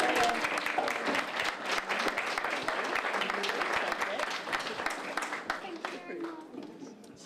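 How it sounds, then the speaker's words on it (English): A crowd at an art society anniversary exhibition claps for award winners, a full round of applause that builds, holds and then thins out toward the end, with some voices murmuring underneath. "a big round of applause, I think, for all three"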